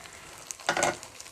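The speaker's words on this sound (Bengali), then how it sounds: "চালটা এখন এই মশলার সাথে খুব ভালোভাবে ভেজে নিতে হবে" Rice frying with spices in a pot for plain pulao, heard as a steady sizzle that swells into a brief louder stirring rustle before settling back.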